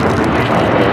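A Bombardier Global 7500 business jet at LAX gives off a loud, dense jet roar that stays steady and close for a brief moment.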